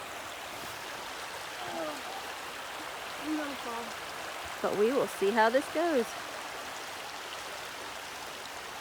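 Shallow creek water burbles and trickles steadily around a hiker wading across on a trail, a close continuous babble under brief spoken remarks.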